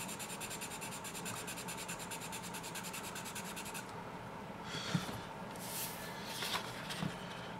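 Dark Primo Grande charcoal pencil scratches across paper in close, steady rubbing strokes, dry and gritty, with a rapid fine texture early on and a few separate strokes later, and no voices.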